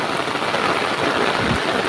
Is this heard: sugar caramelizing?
no